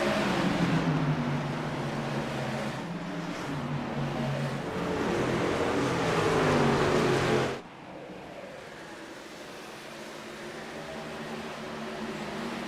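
Race cars circling Iowa Speedway in a racing video game, a dense steady engine drone that drops sharply partway through to a quieter hum, with no talk.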